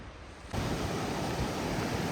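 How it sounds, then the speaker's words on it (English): A creek flowing under a small bridge at Icicle Gorge near Leavenworth, Washington, a steady rush of water that swells abruptly after a brief quieter start and stays broad and constant, with no voices. "a pretty little creek underneath this pretty little bridge"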